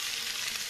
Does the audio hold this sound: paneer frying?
yes